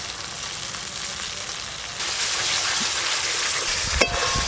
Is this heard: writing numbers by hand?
no